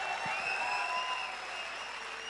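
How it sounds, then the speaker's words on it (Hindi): An audience at a direct-selling meeting for the Naswiz alkaline ionizer water machine breaks into steady, even applause, a dense continuous clapping that holds at full level for the whole stretch without voices. "तालियां जबरदस्त होनी चाहिए।"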